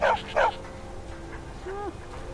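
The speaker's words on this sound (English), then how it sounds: "she has a doggy" A dog in the game Skyrim gives two quick yips close by, then a short rising whimper, with a faint background hum behind it.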